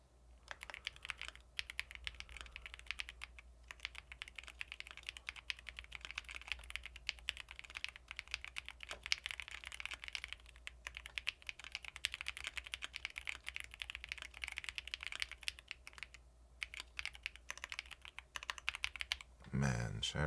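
Steady rapid clatter of keys on a computer keyboard during an online typing test, close and continuous for most of the stretch, with a brief pause near the end.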